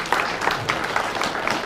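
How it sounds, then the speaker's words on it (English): An audience at a theatre premiere applauds continuously, dense steady clapping from a crowd filling the space at close range. "A round of applause for the Men's Shed."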